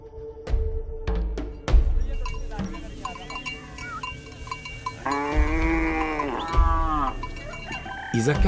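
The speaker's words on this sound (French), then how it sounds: "il ne peut compter que sur son troupeau" A herd of cattle, thirty cows kept in a thorn-fenced boma, moos in long low calls while cowbells clink and clatter nearby, with some voices talking in the background.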